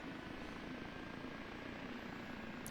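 A steady, low turbine drone from the engine of an OH-58D Kiowa Warrior helicopter in the DCS flight simulator runs at full throttle, faint and unbroken throughout with no talk.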